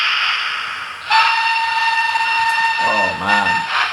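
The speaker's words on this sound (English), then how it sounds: "Let's have a medium whistle this time." A Hornby King Class model steam locomotive's TTS sound whistle sounds steadily with a hissing undertone, then pitch-sliding mechanical tones join near the end.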